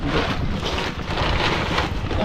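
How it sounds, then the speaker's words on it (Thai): Wind blows steadily around a two-storey house in a durian orchard, a loud continuous rushing gust buffeting the microphone with no pauses. "ลมพัดแบบนี้ตลอดเนี่ย ลมพัดตลอด"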